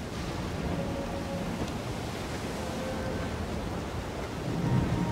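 A thunderstorm at sea in Assassin's Creed Black Flag, dense steady roar of rain and wind with low rumbling that swells slightly toward the end, no talking.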